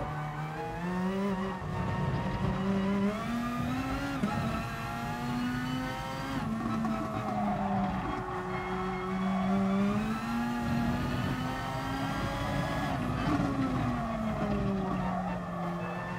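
Nissan GT-R race car in Gran Turismo Sport, a steady loud engine drone rising and falling with gear changes and revs, continuous throughout with faint tire noise.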